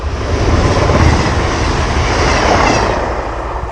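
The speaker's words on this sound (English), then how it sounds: "right on cue, here comes a train" A train rumbles past on a railway line beside a canal. A loud, close, steady roar holds for the whole stretch, with no voices.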